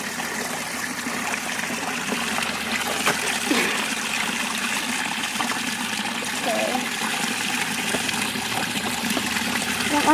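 Water falls steadily into a garden pond, a constant close trickle and splash running through the whole stretch with no break.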